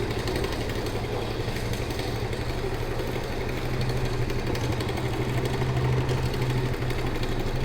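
Small scooter engine running while riding, a continuous buzzing drone with steady rattling vibration, close and unbroken throughout.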